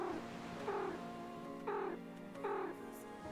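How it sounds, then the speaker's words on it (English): Cat meow emote from the Webfishing video game, three drawn-out meows spaced about a second apart, clear and close over a faint steady hum. "So you meow or bark with G."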